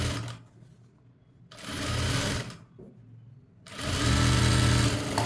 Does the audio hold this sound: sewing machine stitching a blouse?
yes